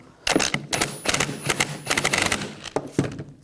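Rapid ratchet clicks in quick bursts as a control arm bolt is snugged on a 2004-2009 Audi A4 Quattro front suspension, close and loud with brief pauses between strokes.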